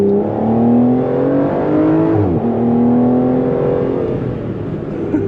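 V12 grand touring supercar engine, close and loud, holding steady harmonic drone then dropping pitch through a downshift with a brief blip and rev rising again, continuous engine roar throughout.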